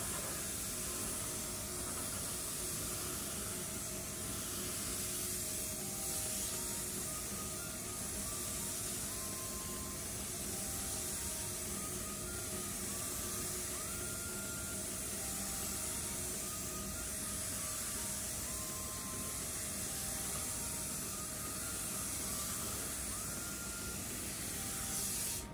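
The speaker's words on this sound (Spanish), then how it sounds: "en este caso vamos a aplicar la primera mano que será la más cargada, la que más pintura y más cantidad vamos a dar" A spray gun lays down a heavy first coat of paint, giving a loud, unbroken hiss that stays steady for the whole stretch with no talk over it.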